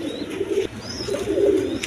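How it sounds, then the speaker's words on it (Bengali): Kalpit pigeons of Pakistani blood give low, soft cooing murmurs in two short bursts, close by with no talking. "এখানে এক পেয়ার কবুতর আছে। দেখেন কালপিট কবুতর, আপনার পাকিস্তানি, এটা পাকিস্তানি ব্লাডের আপনার কালপিট কবুতর হয়।"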